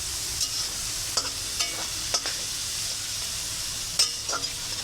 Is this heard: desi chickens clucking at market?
no